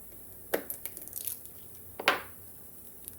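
A knife cuts into a garlic clove in two crisp, crunchy bursts about a second and a half apart, with smaller clicks around them, close up and otherwise quiet.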